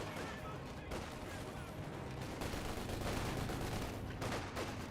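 Units in Company of Heroes 2 trade gunfire in a distant, muffled battle, with a steady wash of rattling small-arms and machine-gun bursts that continues without a break under low background din.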